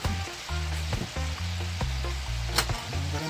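A pot sizzling on a stove while making Jamaican escovitch saltfish, a constant close fry with occasional scrapes of a stirring spoon and a low tonal hum underneath, no voices.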